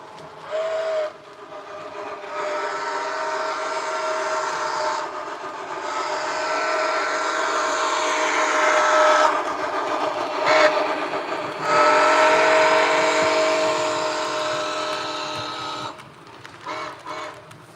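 An HO scale model train pushes up a grade on a layout with more throttle, giving a sustained mechanical whine and rumble broken by a few short whistle-like toots, fairly close and alone.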